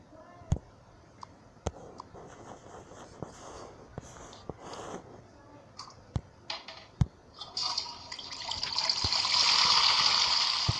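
Water runs during hand washing in a Toca Boca game, with sparse clicks and drips before a soft trickling rush swells and holds near the end.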